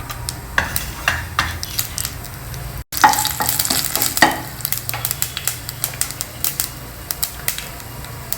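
Mustard seeds, urad dal and chana dal crackle and sizzle in a tablespoon of hot oil in a pan, with dense rapid popping and clicks and some stirring throughout, no voices.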